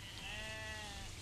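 A sheep bleats with a drawn-out wavering cry, moderately loud over steady outdoor background noise.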